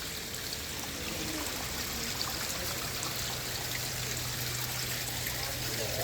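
Spring water flows from a mountain cave at a hillside shrine, a soft steady trickling and splashing hiss that stays even and fairly faint throughout.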